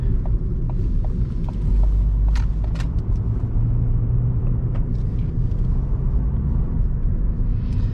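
A Ford Fiesta's engine rumbles steadily from inside the cabin, a low, constant drone with a few brief mechanical clicks and ticks on top and no voices.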